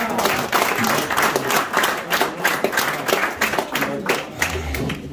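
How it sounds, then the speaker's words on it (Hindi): A crowd at an evening mushaira poetry gathering claps vigorously, a close, loud and uneven patter of many hands with individual claps audible throughout. "इनके लिए एक जोरदार तालियां।"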